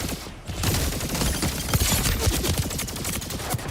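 Rapid automatic gunfire from the video game Warzone, dense and loud, with bursts of shots running continuously without pause.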